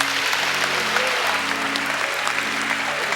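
A church congregation applauds loudly during a Portuguese-language worship service, with a dense, steady wash of clapping from many hands that fills the room without a break.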